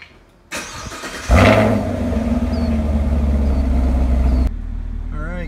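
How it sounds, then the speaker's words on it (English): A Chevrolet Camaro engine runs at a close, steady idle after a brief noise and a sudden surge, with a low droning hum; a voice speaks over it near the end. "Car's been running for about 3 or 4 minutes"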